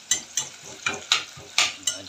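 Ampalaya (bitter gourd) stirred and frying in a pan, six sharp scraping strokes at a steady rhythm over a constant sizzle, close and fairly loud, with no voices.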